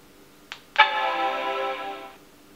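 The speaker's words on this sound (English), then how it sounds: "I have connected the speaker, so we should hear a chime." An Apple Macintosh LC 475 sounds its startup chime, a single loud sustained harmonic tone lasting over a second before fading, preceded by a faint click from powering on in a quiet room.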